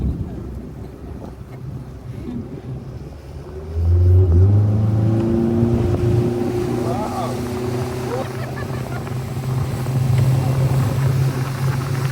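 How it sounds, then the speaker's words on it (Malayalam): Speedboat ride on Mattupetty lake, the motor droning steadily then surging louder as the boat accelerates, with rushing wind and water close to the microphone and voices heard over it. "Speed boat ride."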